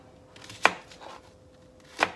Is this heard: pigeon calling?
no